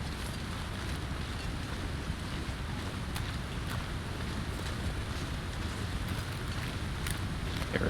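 Blizzard wind in the survival video game The Long Dark, a faint, continuous rushing roar with steady low rumble and occasional gusts, no voice over it.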